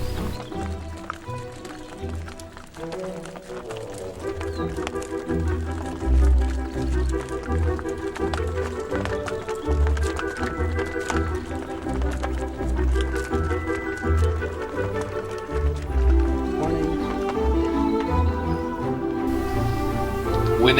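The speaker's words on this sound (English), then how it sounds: "I had my very own running of the cows." Rapid hoof thuds of several cows running past on the Camino de Santiago, a drumming rhythm over low rumbling, with music-like tonal bands layered throughout.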